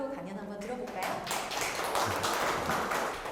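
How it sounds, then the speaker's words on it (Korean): A lecture audience breaks into applause for the speaker at a science talk. A voice is heard first, then dense, even clapping swells and continues steadily to the end. "그럼 큰 박수로 강연 한번 들어볼까요?"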